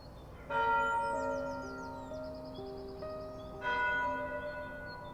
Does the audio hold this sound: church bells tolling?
yes